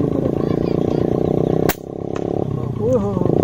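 Single sharp crack of a modified P15 air rifle fired with FX heavy slugs while dove hunting at long range, a brief loud snap amid steady outdoor background noise, with a voice briefly heard afterward.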